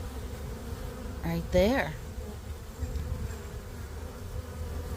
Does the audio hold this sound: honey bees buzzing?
yes